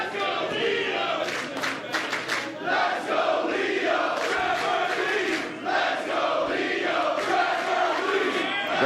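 A partisan wrestling crowd at a Reseda pro wrestling show chants loudly and rhythmically, with massed voices and cheering filling the arena continuously, close and dense throughout.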